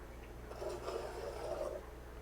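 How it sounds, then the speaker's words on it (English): Clay is trimmed on a spinning pottery wheel, a soft, faint scraping rasp that swells in the middle over a low steady motor hum, with no voices. "You can see that clay trimming away"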